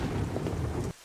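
Heavy rain pours steadily through a stormy night with low rolling thunder, loud and dense, ending abruptly into near silence.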